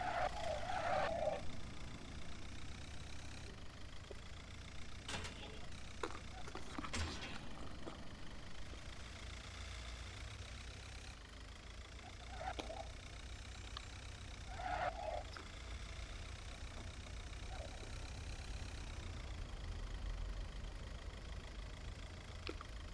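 A car engine runs steadily at low revs while crawling slowly uphill, a medium-pitched hum with a few brief louder bursts and faint clicks over the top, no talk.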